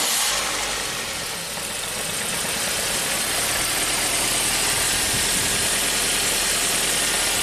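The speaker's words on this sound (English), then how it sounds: "Let's just jump the two control pins, see if the starter spins. It should fire up." A car engine, one that has likely sat unused for months, turns over briefly and catches, then settles into a steady, close idle with a slight rough knock and no talking.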